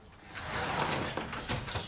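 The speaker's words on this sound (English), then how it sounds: "you can open the door" A Neff Slide&Hide oven door being opened, a faint close sliding, rattling mechanical sweep with a few small clicks, heard alone without talk.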